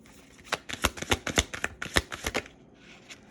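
Tarot cards being shuffled by hand, a rapid run of crisp riffling flicks and slaps for about two seconds, close and fairly loud, then a quiet pause with faint room sound.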